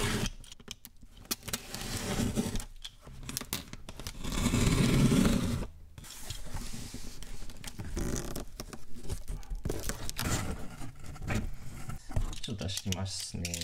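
Packaging for a Nordost digital audio cable is handled and opened close up, with crinkling, rustling and tapping sounds that come in bursts between pauses, and someone talks softly over parts of it.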